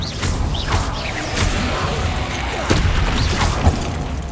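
Confringo explosive spell blasts cast in combat in Hogwarts Legacy, a series of whooshing bursts and impact booms over a dense rumbling game soundscape, with louder hits near the end.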